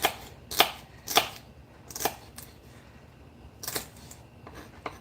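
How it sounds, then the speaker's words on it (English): A knife finely chops celery on a cutting board while a meal-kit dinner is prepared, giving about eight sharp, irregularly spaced taps, close and fairly quiet, with no talking. "just do a little fine chop here, and then I have to do the onion"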